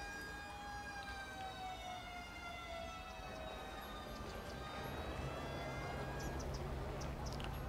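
A fire engine siren in the city-building game Cities: Skylines II wails steadily with gliding tones over a low rumbling city ambience. It stays moderately quiet and continuous throughout.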